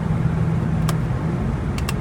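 A BMW E92 M3 V8 engine on its stock exhaust with factory catalytic converters, a steady, muted, slightly high-pitched drone heard from inside the moving car, with a couple of faint clicks over the top.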